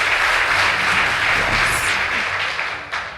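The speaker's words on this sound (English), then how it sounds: "Please give them a round of applause." An audience at a high school debate contest applauds in a steady, dense wash of clapping that tapers off near the end.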